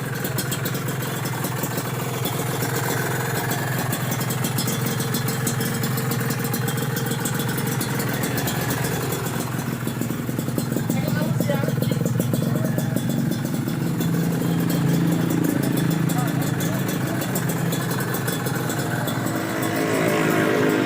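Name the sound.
Kawasaki Ninja RR motorcycle engine idling after upgrade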